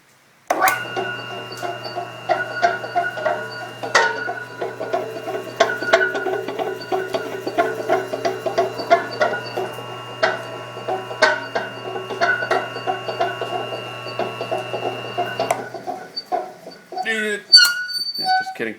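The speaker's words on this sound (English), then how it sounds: "I will have my motorized apple crusher ready to go." A homemade motorized apple crusher runs with a steady motor hum and clattering, rattling bursts for about fifteen seconds before cutting off, followed by brief handling noises.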